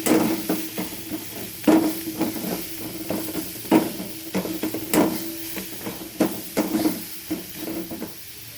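Onion paste sizzles in a hot pan on medium heat while a spoon or spatula stirs it in repeated scraping strokes, steady frying hiss underneath, close and clear with no talking.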